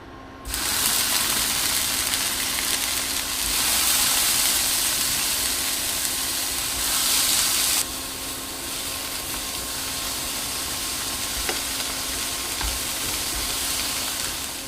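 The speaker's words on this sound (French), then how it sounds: "je vais ajouter les tranches d'halloumi que je vais faire poêler" Slices of halloumi cheese fry in a pan with a loud, steady sizzle that swells when they hit the oil and then settles into a constant close crackling hiss, with no voices.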